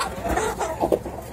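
Penned backyard chickens clucking softly nearby, a few short low cackles and murmurs scattered across the moment over faint background rumble.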